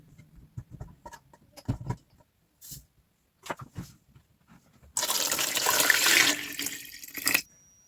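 Water gushes loudly into a pot of potatoes for about two seconds, preceded by scattered kitchen clatter and handling noises, with no talking.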